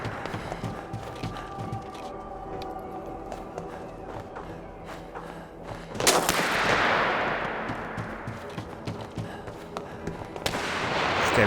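A gunshot in the war survival video game This War of Mine: a loud burst erupts about halfway through and decays into a noisy wash, over a busy, steady background of game ambience.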